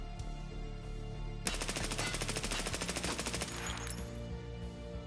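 An AS Val rifle in Escape From Tarkov fires a single sustained full-auto burst of rapid suppressed shots lasting about two seconds, loud and close, with quiet ambience before and after.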